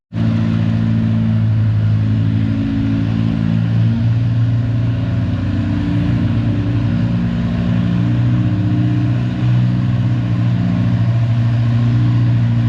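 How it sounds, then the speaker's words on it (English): A Farmall C pulling tractor at a 3200 lb class tractor pull gives a loud, steady engine roar with deep rumbling throughout, held close and unbroken for the whole stretch. "this is the second tractor of the pair. Farmall C."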